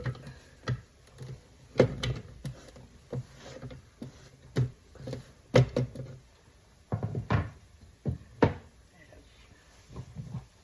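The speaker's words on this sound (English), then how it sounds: "get it started and finish it in the food processor" Chicken pulsed in a food processor, a series of short, close bursts of whirring and chopping with brief gaps between them, the pulses irregular and fairly quiet.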